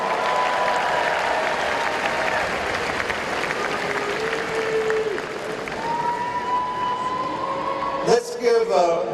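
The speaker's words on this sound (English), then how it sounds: "Give them all a big round of applause." Loud audience applause at a Democratic Party event, continuous clapping sustained for several seconds with faint voices and a brief burst of louder noise near the end.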